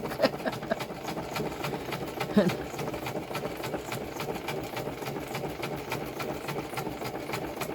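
A sewing machine stitching around a paper masterboard, running in a fast even mechanical patter from start to finish, close and fairly loud.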